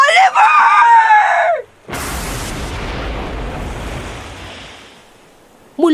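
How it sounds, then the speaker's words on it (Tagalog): A woman lets out a long, loud, piercing scream at night on a dark, raging sea, then heavy ocean waves crash and roar for several seconds before slowly fading, with a brief cry returning at the end. "Isang huling sigaw ang pumunit sa gabi bago siya tuluyang lamunin ng alon"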